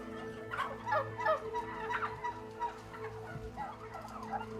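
Many turkeys gobble and call over one another in a crowded broiler-style farm shed holding thousands of birds, a dense continuous chorus with overlapping gobbles and a steady low mechanical hum underneath.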